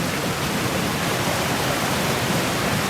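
A waterfall in the forest roars as a steady, dense wash of falling water, close and loud, with no voices over it.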